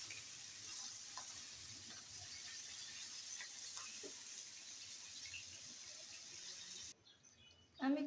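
Teasel gourd and potatoes fry in hot oil after fish, giving a steady, fairly quiet sizzle with faint stirring scrapes, dropping away briefly near the end before a short louder burst.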